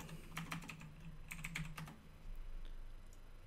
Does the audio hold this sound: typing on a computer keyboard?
yes